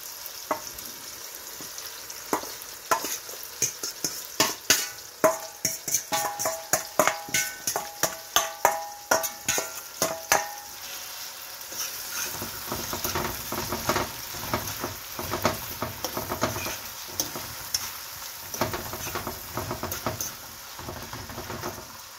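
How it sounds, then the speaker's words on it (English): Salted fish drops into a hot pan with tomato, onion and scallion and fries, starting with a burst of sharp crackles and pops that settles into a steady, softer sizzle, close by. "I'm going to add the salted fish to the tomato, onion, and scallion."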